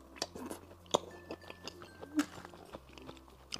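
Crispy shrimp meat is chewed close to the mic, with irregular crunchy bites and soft mastication sounds repeating over a few seconds with no talk.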